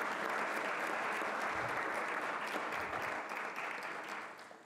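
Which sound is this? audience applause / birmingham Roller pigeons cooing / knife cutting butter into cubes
audience applause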